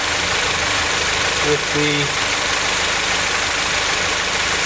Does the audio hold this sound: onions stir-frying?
no